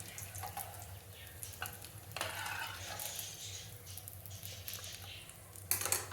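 Potato balls frying in hot oil on a stove, giving a soft, steady crackle and patter with occasional louder spatters, close by and with no talk.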